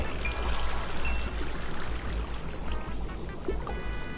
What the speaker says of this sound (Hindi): अरे पानी कहाँ से टपका ये ऊपर से?